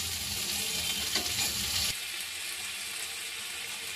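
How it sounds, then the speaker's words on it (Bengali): Onion, potato, chopped ginger and garlic frying together in a pan, a steady close sizzle that is loud at first, then drops to a softer, even hiss with no voices. "আমি আদা কুচি আর রসুন থেকে পেঁয়াজ কুচি আলু একসঙ্গে ভেজে নিয়েছি।"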